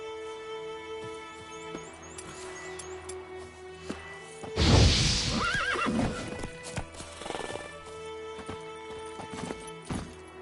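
Horse in the Witcher 3 video game neighs loudly midway while hooves clip-clop steadily throughout, set against a faint game soundscape.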